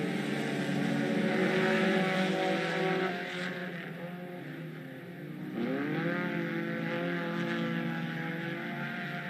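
IMC Sport Compact race cars run their main event on a racetrack, engines droning steadily, fading slightly, then rising in pitch as the pack accelerates again.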